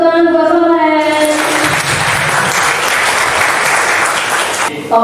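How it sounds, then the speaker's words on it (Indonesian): Students in an Indonesian classroom applaud a classmate named Soleh: a voice is heard briefly first, then loud, dense clapping fills most of the stretch before cutting off near the end. "Jadi kita kasih tepuk tangan buat Soleh."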